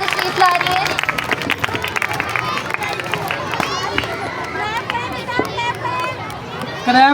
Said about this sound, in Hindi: आपकी भरपूर तालियों में अनाया आफ्ताब स्टेज पे तशरीफ ला रही है